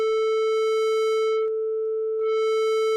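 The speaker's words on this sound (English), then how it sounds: "I'll go ahead and input a 440 sine wave" A 440 Hz sine wave passed through soft-clipping, diode-like distortion: a loud, steady buzzy tone rich in overtones that cuts out briefly partway through and then resumes.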